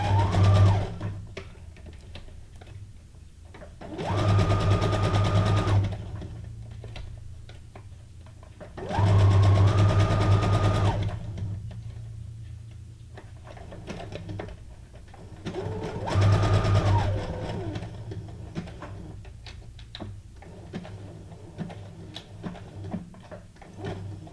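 Small domestic sewing machine running a zigzag stitch on junk journal paper ephemera, three separate loud bursts of steady whirring a few seconds apart, with quiet room noise and handling between them.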